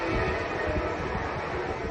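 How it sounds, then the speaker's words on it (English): An Amtrak passenger train passes near Ventura Beach, California, as a loud, steady, broadband rumble of rolling wheels that holds without a break for about two seconds, with no talking. "Oh, you can hear the Amtrak train."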